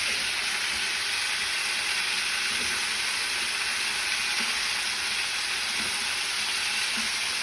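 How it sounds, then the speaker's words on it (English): Onions and potatoes frying in a pan give a steady, close sizzle with soft crackle and bursts of spatter, constant throughout with no voices. "The onions are starting to cook. They're starting to get soft and clear."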